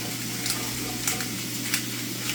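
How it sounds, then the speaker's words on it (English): Loaded scrambled eggs sizzle steadily in a pan while a utensil stirs them, with a few soft scrapes rising above the constant frying hiss. "So you just want to give it a good stir here"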